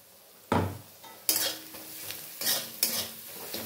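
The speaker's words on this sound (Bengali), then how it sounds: "মশলাগুলো দিয়ে খুব ভালো করে মিশিয়ে দেবো" Chicken in a pan is stirred with spice masala, giving several loud bursts of sizzling as a utensil scrapes and clinks against the pan, with quieter frying between the strokes.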